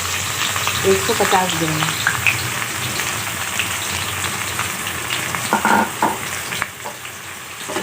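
Onions frying in mustard oil crackle and sizzle close by, with clinking utensil stirs, while a voice speaks briefly near the start.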